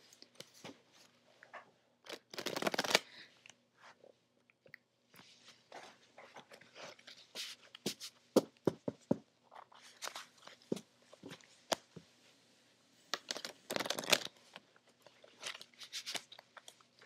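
Tarot cards are shuffled by hand, close and fairly quiet, with irregular riffling bursts and scattered sharp snaps and taps between softer shuffling passes.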